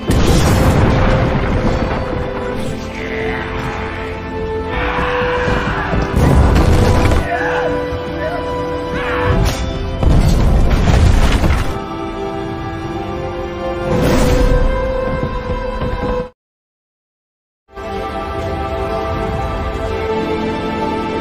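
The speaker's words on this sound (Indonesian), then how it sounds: "Pertempuran sengit yang dibarengi tembakan serta meriam Jepang terus berlangsung hingga fajar menyingsing." Heavy booming blasts of Japanese cannon fire and bursts of gunfire roll through a loud naval battle between the Joseon navy and a Japanese fleet, with a dense rumble of explosions and a brief silent gap near the end.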